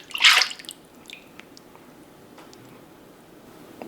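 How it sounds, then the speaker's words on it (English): Evaporated milk is poured into a bowl of beaten whole eggs and egg yolks, starting with a loud splash and then settling into soft dribbling, trickling liquid sounds close up. "Now we're gonna add in our 2 cups of evaporated milk"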